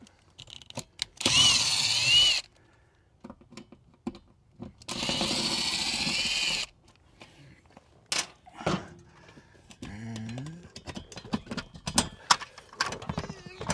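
Screws being backed out to free a box on an off-grid solar build, heard as two long, loud bursts of a power drill or driver, then scattered clicks, ratchet-like ticks and handling knocks.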